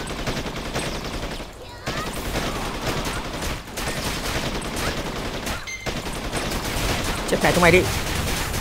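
Rapid, sustained bursts of automatic gunfire in the Blade and Soul video game, dense volleys broken by a couple of short pauses, loud and up close, with someone shouting briefly over the shooting.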